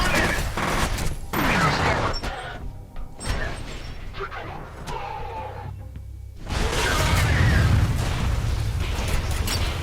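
Heavy cannon fire in the shooter game F.E.A.R. bursts as loud, booming blasts and mechanical rattles, dips briefly quieter, then returns as a sustained roar of heavy fire.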